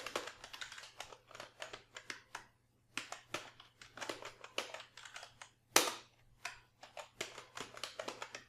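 A password is typed on a computer keyboard in quick close clattering bursts of keystrokes with short pauses, one louder key strike midway, no talk.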